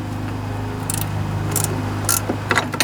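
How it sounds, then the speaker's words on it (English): Wrench working on a transmission bolt of a Toro rear-engine mower in a junkyard, several short bursts of metallic scraping and ratcheting over a steady low engine-like hum, close by, no talking. "I'll get a wrench on the other side here."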